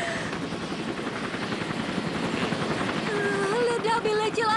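A helicopter's rotor drones with a steady, loud chopping throb, and voices become audible near the end.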